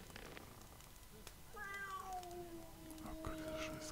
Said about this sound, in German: diese scheiß Katze schon wieder